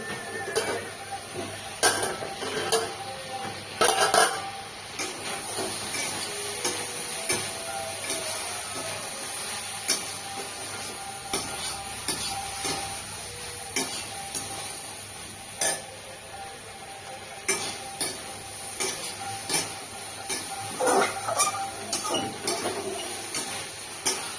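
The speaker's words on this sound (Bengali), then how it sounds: "এবার ঢাকাটা তুলে নেবো, তুলে আরেকবার নাড়া দিয়ে দেবো।" A spatula stirs okra and potato curry with mustard-poppy paste in a pan, giving intermittent scraping and clinking knocks over a soft, steady sizzle, with no talk.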